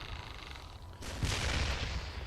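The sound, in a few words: robot firing its main weapon in video game Damnation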